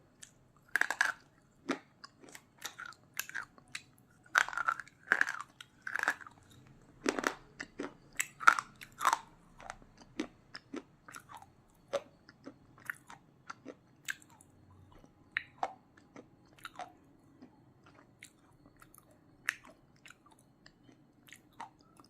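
Slate pencil being bitten and chewed up close, with sharp crunchy snaps followed by gritty grinding chews, dense at first and then thinning into sparser, quieter crunches in a silent room.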